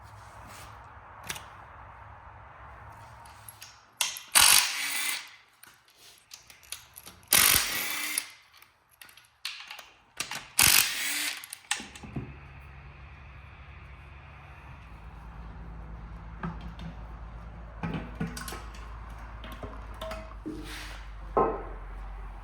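A hand ratchet works loose a stud on a 7.3 Godzilla V8 engine during oil pan removal, heard as several bursts of close, sharp clicking separated by quiet gaps, with a low hum underneath.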